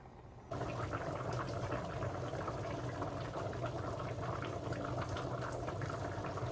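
Mutton curry simmering in a covered pot, with a steady broadband bubbling hiss that swells up after a brief quieter start and then holds even and close throughout, with no talking.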